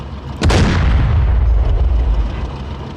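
A single heavy boom from the ZBD-04A infantry fighting vehicle's main gun in DCS World, a sharp loud blast followed by a long rumbling, decaying tail with no talk.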